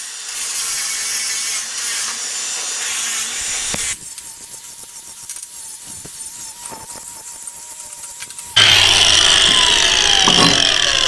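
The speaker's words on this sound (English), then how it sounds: "we'll just give these a quick hit with a grinder, clean all these sharp edges off" An angle grinder works over metal to remove burrs, sharp edges and paint, a loud continuous whine that shifts in pitch and load across passes, rising to a harsher, brighter grind near the end, close and without speech.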